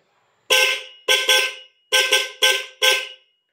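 Six loud honks from a newly installed dual-contact car horn sound close by, some in quick pairs, with short silences between them.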